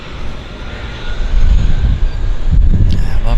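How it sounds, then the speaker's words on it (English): A de Havilland Twin Otter departing from a downtown harbour airport, its engines giving a loud, broad roar that swells and holds steady over a few seconds. "Another Twin Otter departure for us."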